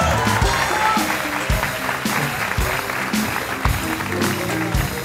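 Studio audience applause at a live talk show, a dense steady wash of clapping with brief louder bursts, heard close and continuous with a voice briefly audible underneath.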